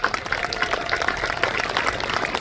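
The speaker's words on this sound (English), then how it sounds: "Let's give her a round of applause" Rally crowd in Louisa County, Virginia applauding a congresswoman, dense steady clapping mixed with crowd noise that holds loud and even throughout.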